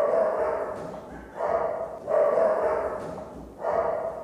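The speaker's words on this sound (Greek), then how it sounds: "Αυτός είναι ο σκύλος τον οποίον πρόσφατα" A recently adopted dog barks in a steady run of repeated, fairly loud barks, each lasting about half a second and following close on the last.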